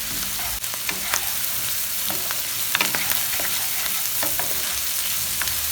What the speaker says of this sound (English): Handful of garlic and now fry them.